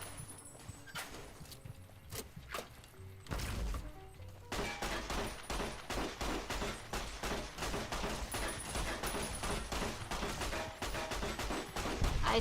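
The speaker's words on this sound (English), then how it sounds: "I say as I stop and shoot them." Rapid gunfire from shooting enemies in Fallout: New Vegas, a dense run of sharp, loud shots after a quieter opening, continuing steadily to the end over ambient game sound.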